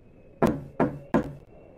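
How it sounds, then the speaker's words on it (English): Three sharp, evenly spaced knocks ring out on glass, close and distinct against near silence. "I woke up to hear knocking on glass."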